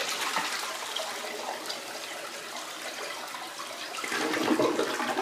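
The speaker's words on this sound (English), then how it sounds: "Now flush the toilet." A clogged toilet that was just unblocked by hand flushes, producing a steady rushing swirl of water that continues throughout and swells louder near the end, with no talking.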